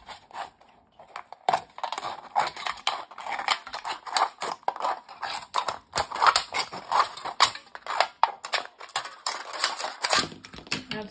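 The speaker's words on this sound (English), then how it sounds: "And I should use a bigger scissors for that." Scissors snipping through thin pop can aluminum, a rapid series of crisp metallic cuts and crunches in an uneven rhythm, close and fairly quiet, with no talking.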